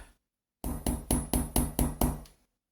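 Seven evenly spaced metallic taps of a small hammer flattening a wire headpin for jewellery, each a bright ringing strike, close and clear against silence.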